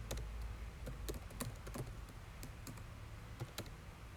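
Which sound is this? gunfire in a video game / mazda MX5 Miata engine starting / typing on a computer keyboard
typing on a computer keyboard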